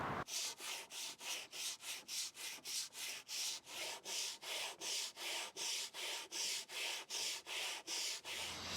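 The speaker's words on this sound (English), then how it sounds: "Now I'm going to sand the whole table again." An old wooden tea table is sanded by hand in steady back-and-forth strokes, about two per second, rasping loud and close without a break for nearly nine seconds.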